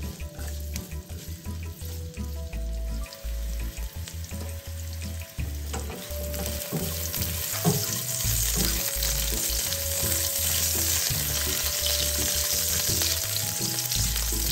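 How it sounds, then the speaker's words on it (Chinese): Ginger slices stir-frying over high heat in hot oil, a steady loud sizzle with stirring and scraping for a vegetarian spicy-sour mustard green dish, growing more intense toward the end with no talking. "再将生姜片倒入，大火爆香。"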